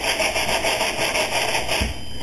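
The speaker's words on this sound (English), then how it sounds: "the last thing you want to do is over-force it with the sandpaper, put too much pressure on it" Sandpaper worked by hand over a wooden model airplane wing, a close, steady rasping scrape repeating in quick even strokes with no talking.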